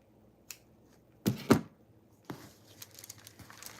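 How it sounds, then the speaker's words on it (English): Sharp scissors snip through the thread loops of tailor's tacks on blazer fabric, giving two quick close cuts in succession, then softer rustling handling of the cloth. "She cut the loops in half, like so."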